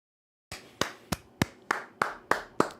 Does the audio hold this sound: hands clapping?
yes